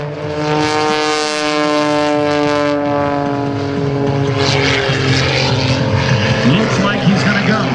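Skip Stewart's aerobatic propeller plane at the 2009 Blue Angels Homecoming Airshow passes low at about 150 mph, its loud, steady engine drone with strong harmonics shifting in pitch as it goes by, with announcer speech over it.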